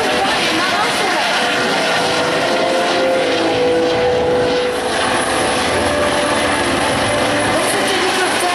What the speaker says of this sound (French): Donc cet hélicoptère